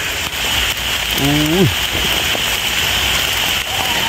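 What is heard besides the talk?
rain falling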